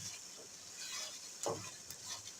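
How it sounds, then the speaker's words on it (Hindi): Masala with onions and tomatoes for Kashmiri chicken karahi being stirred and fried, a soft low sizzle with a few spoon scrapes, close and faint, no voices. "ये देखिए दोबारा से हमने इसकी भुनाई करनी है"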